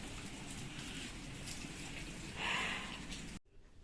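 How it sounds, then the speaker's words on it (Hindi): Heavy monsoon rain in Chikmagalur pours down as a steady, dense hiss with a brief louder gust of spatter, then cuts off abruptly near the end. "इतनी तेज बारिश है"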